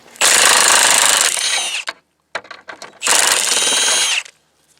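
Heavy impact wrench hammering at rusted suspension bolts on a Chevy Silverado OBS 1500: two long, loud rattling bursts separated by a short pause filled with a few brief stuttering blips.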